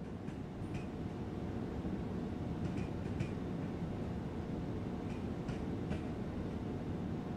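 A train slowing down in Train Sim World 2, with a steady low rumbling drone of the running train and faint, sparse clicks and squeaks over it, with no voices.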